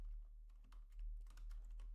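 Quiet clicks of fingers typing on a computer keyboard, a short uneven burst of keystrokes over about two seconds with no talking.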